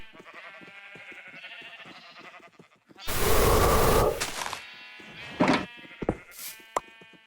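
Minecraft sheep bleat in short wavering calls, several in a row, with a loud burst of noise and a few sharp hits breaking in partway through.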